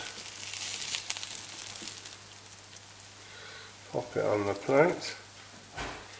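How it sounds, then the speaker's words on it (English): A spiralized vegetable casserole sizzles and hisses quietly on a hot plate, a steady soft crackle under someone speaking briefly near the end. "Look at that, hear it sizzle."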